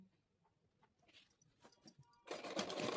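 A sewing machine starts up and runs a fast straight stitch on palazzo pants after a few quiet handling taps, its motor whirring loud and steady by the end.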